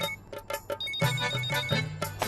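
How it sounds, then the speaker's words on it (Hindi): A mobile phone ringing indoors, a melodic ringtone of repeated tonal bursts, sparse and lighter at first, then a denser, louder stretch of rhythmic notes with no voices over it. "तुम्हारा फोन कब से टाई टाई टाई टाई किए जा रहा है"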